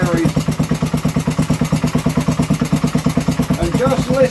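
A Kohler K series engine, found after years in a hedge, runs with a steady rhythmic thumping putter, loud and close, with a faint voice near the end.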